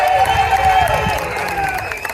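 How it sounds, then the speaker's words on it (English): Crowd cheering and applauding at a Castle Dracula dark ride event in Wildwood, New Jersey, a steady, fairly loud wash of clapping and voices with a whistling tone early on, holding throughout. "I want you guys to cheer them on"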